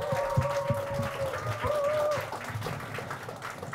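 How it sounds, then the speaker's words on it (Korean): An audience at a South and North Korean youth hip-hop talk event applauds after a rap performance. The clapping is a moderate wash, with a sustained tonal sound over it. "박수 한번 주세요."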